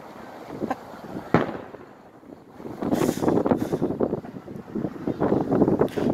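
New Year's fireworks for 2018 crackle and pop in scattered bursts outdoors, mid-distance, partly masked by gusty wind buffeting the microphone, with no talking.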